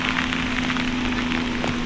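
Steady rain falling during a motorcycle tour, a dense continuous hiss of drops close by with a constant low hum underneath, loud and unbroken throughout.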